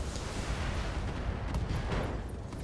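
Mech weapons fire in Battletech during an urban battle, a dense, sustained rumble of low booms and cannon blasts with a few sharper reports toward the end, no voices.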